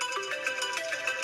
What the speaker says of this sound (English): Let's go ahead and check ringtones.